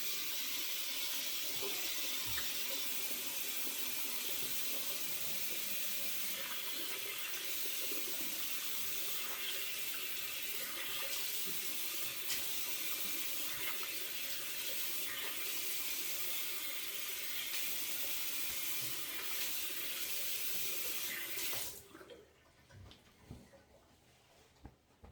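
Water runs from a bathroom tap into a sink in a steady, close hiss during a shave, then shuts off near the end, leaving faint small clatters.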